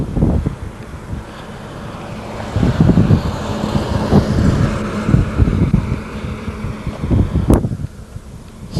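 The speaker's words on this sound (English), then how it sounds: "as you can see, there is quite a bit of traffic" Steady road traffic rolls past along a route, with vehicles swelling and fading in a broad, continuous rumble, several louder passes standing out, and wind buffeting the microphone throughout.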